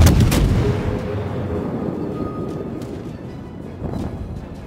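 Heavy naval gunfire from the cruiser HMS Belfast in World of Warships: a loud booming salvo at the start, then a rumbling low wash with further distant muffled shots and thuds, with no voices.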